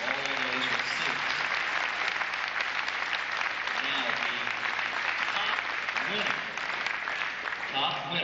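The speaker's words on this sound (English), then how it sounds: "Would you please give this band a round of applause for all of those receipts?" An audience at a high school band Christmas concert breaks into sustained, dense applause that fills the hall throughout, with a voice speaking faintly over it.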